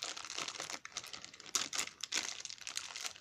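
McDonald's Happy Meal paper packaging being torn open by hand, close-up bursts of crinkling and ripping paper that come in quick uneven tugs, with a sharper tear near the middle.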